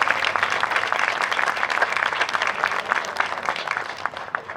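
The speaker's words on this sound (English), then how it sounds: "That would be great to give him a round of applause for all he's done for us" A concert audience at a city band performance breaks into dense, loud applause, many hands clapping together in a sustained burst.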